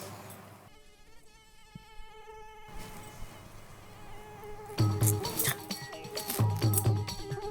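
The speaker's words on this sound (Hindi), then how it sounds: "अरे मच्छर।" A mosquito buzzes in a thin whine near the ear at night, with clinks and rustling bursts from people stirring in bed later on.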